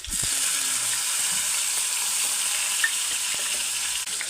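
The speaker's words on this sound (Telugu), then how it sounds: "తాలింపుకు జీలకర్ర సన్నగా తరుముకున్న ఆనియన్స్ ఒక చిన్న సైజు వేసుకుంటే సరిపోతుంది" Cumin, onions and tomato frying in oil for a tempering, with a steady close sizzle throughout and a few faint clicks of a utensil against the pan.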